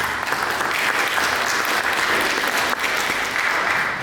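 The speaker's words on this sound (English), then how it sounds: "a big round of applause for Toby Jones" Sustained applause from a church congregation at a Presbyterian Sunday service, steady and dense throughout with a brief dip near the end.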